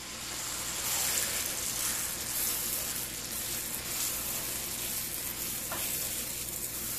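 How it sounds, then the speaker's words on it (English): Moong dal paste sizzles steadily in melted ghee in a pan, a dense, even frying hiss that holds for several seconds with a few faint stirring scrapes and no talking. "So I'll just, you know, drop this ghee in a pan and then we'll be putting our dal in it."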